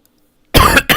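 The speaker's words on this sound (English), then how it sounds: "I got up and the coughing fit started back up" A coughing fit: after near silence, two harsh, close coughs follow in quick succession.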